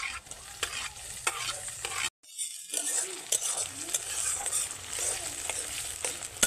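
Chopped tomato dropped into a pan of frying onion, ginger and garlic for egg bhurji, giving a continuous close sizzle with stirring scrapes and utensil clinks, cut by a brief silence before the frying resumes.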